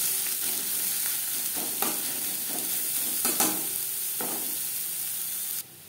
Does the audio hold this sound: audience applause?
no